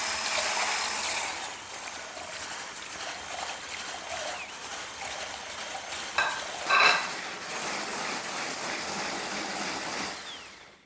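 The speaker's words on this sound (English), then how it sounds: "now I'm going to whisk up these whites" Egg whites are whisked to stiff peaks for pancakes, giving a continuous fast, hissing, rattling whir, likely from an electric whisk, that runs steadily for about ten seconds at close range with no talking.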